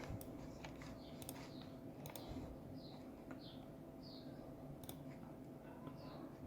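A tracking number is entered on a computer keyboard, a run of soft, fairly quick key taps over a faint room hum, with a few distant bird chirps in the background.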